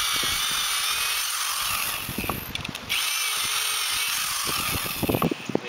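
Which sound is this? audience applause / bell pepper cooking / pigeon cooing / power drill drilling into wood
power drill drilling into wood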